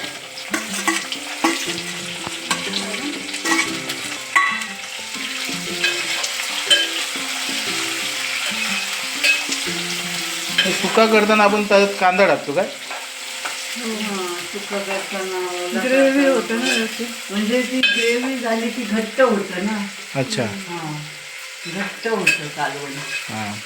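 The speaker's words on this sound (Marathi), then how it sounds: "आपण कांदा टाकतोय त्याच्यामध्ये" Onion frying and being stirred in a pan of hot oil for Agri-style chicken sukka, a continuous close sizzle with a spoon scraping and knocking against the pan, as a voice talks intermittently over it.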